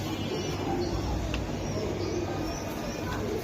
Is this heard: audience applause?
no